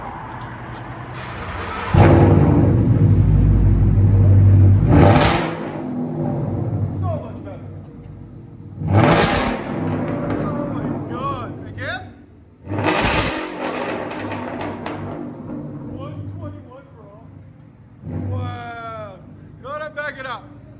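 2015 Ford Mustang GT with a 5.0L V8 and a dual exhaust fitted with an X-pipe and straight pipes, mufflers cut off, revving in several loud, deep bursts separated by rumbling idle, close to the microphone.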